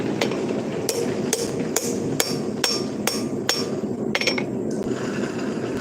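Hammer blows forging a railroad spike into a knife preform ring out as roughly nine sharp, evenly spaced metallic strikes, loud and close, with no talk.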